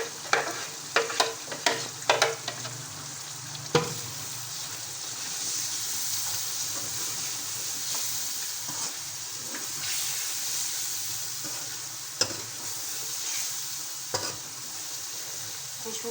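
Chicken korma masala sizzles steadily in a pan after a little water is added, with a continuous frying hiss and occasional clinks and scrapes of a spoon stirring near the start.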